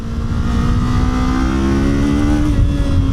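A 2026 Kawasaki Z500 motorcycle being ridden on twisty roads, its engine holding a loud, steady high-revving drone with a slight rise in pitch throughout, close and continuous.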